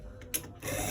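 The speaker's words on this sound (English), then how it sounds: "We are stitching it straight to the end part." A sewing machine stitching straight along a sleeve edge, a quiet mechanical whir with a brief clack, faint and close, with no talking.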